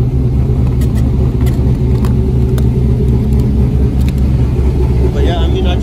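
Cammed 5.3 V8 with a new exhaust, idling with a deep, loud, steady rumble and a lumpy cam pulse throughout, heard close up with a few faint ticks above.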